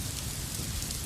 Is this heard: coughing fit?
no